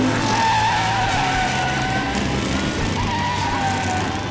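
Stock cars roar around the short oval at Ace Speedway, a loud, continuous pack of engines with tire noise and a droning pitch, sustained for the whole stretch with no talk.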